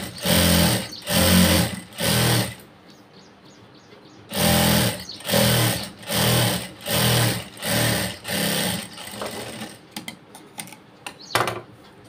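A sewing machine top-stitching cloth runs in repeated bursts of rapid mechanical chatter, each lasting about a second with short pauses between, close and loud, with lighter handling clicks near the end.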